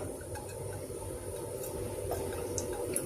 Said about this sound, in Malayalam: നമുക്ക് ഈ ചട്ടിയിലേക്ക് ഇനി കുറച്ച് വെളിച്ചെണ്ണ ഒഴിക്കാം